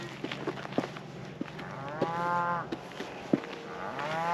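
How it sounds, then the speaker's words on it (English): Cattle on a Kansas ranch after a wildfire low repeatedly in the distance, several drawn-out moos overlapping with scattered knocks and rustles nearby, no talk. "You can hear the cattle in the distance."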